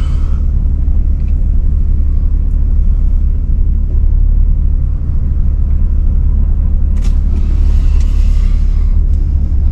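A car drives into Fort Smith, with a loud, steady low road rumble and engine drone throughout and a brief rise of wind or tire noise near the end.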